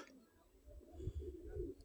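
Outdoors at dusk, a pair of pigeons settling on a perch give soft, low coos, faint and somewhat distant, under quiet ambient noise.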